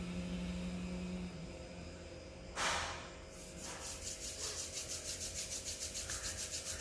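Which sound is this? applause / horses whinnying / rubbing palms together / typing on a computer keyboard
rubbing palms together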